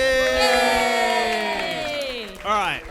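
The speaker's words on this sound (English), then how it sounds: "round applause to Tom Walker, everybody." A live audience at a Dragon Friends comedy show cheers and whoops loudly in a swell of voices that fades slightly, then rises in a short, sharp burst of whooping near the end.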